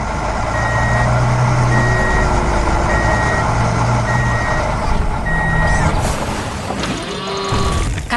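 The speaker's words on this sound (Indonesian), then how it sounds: "Sekarang truk hijau sedang berjalan melewati medan hijau yang menyenangkan." A green truck drives over grassy terrain in a cartoon farm scene, its engine droning steadily while repeated reversing beeps sound loudly in a regular rhythm, then the noise changes near the end.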